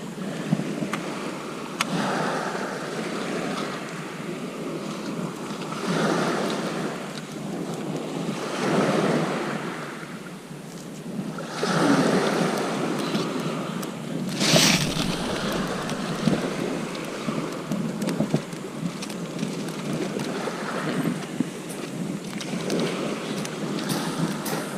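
Sea waves wash and break steadily on a shingle beach at Eastbourne at night on a big tide, with gusts of wind buffeting the microphone and no voices.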